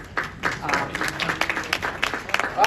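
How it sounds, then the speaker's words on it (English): Conference audience at a poverty programs event clapping steadily for a couple of seconds, a dense patter of many hands filling the room, with a voice speaking over it. "You can stop clapping."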